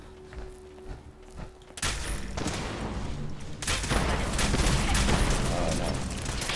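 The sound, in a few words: gunfire from a video game gun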